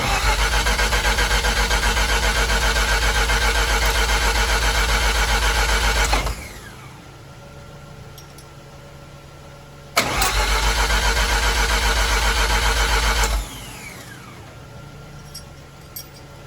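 A turbocharged car engine fitted with a new oil pressure regulator cranks in two long, loud bursts of about six and three seconds, separated by quiet pauses, without catching or settling into an idle.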